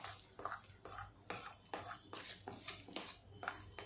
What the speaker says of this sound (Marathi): मीठ आणि आलं टाकून हे छानपैकी आता एकदा मिसळून घेऊया